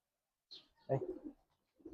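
Giribaz pigeons give a couple of soft, close coos, a short burst followed by a brief pause and another low call starting, in an otherwise quiet setting.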